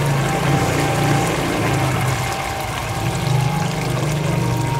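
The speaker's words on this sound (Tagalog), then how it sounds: "Lagyan natin siya ng tubig." Water poured into a pot of sardines and tomato stew, a steady close splashing stream that runs for several seconds with a low rumble underneath.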